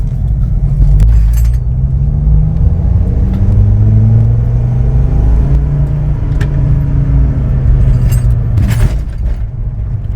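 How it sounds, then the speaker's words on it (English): Fiat-based custom car accelerating in second gear on a road in the Netherlands, a steady loud engine drone with rising harmonics and a continuous low rumble throughout, heard from inside the car. "we are in 2nd gear now. Let's see how far it wants to go."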